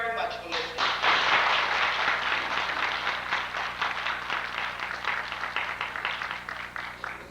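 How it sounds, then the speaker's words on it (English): Conference audience at a 1989 foster care and education gathering claps after a speaker, a fairly soft, continuous patter of hands that turns into more distinct, rhythmic claps later on. "Let's give another hand of applause."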